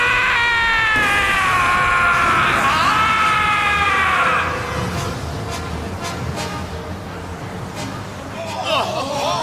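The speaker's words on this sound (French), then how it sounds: "Kyoya est en train de hurler, ce qui provoque encore plus de vent." Kyoya, an anime character in Beyblade Metal Fusion, lets out a loud, sustained, rising yell for several seconds, then the noise drops to a softer rumble before a shorter shout near the end.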